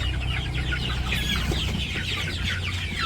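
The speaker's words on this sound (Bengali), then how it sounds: "এটা মুরগি আর এটা মুরগ" Hens cluck and a rooster calls on a village poultry farm, a dense, steady chorus of overlapping clucks and calls carrying without pause, close and fairly loud, with no talk.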